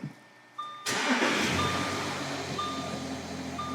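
An off-road Audi Q7 engine cranks and catches at about one second, then settles into a steady, loud idle with a faint repeating electronic beep in the background.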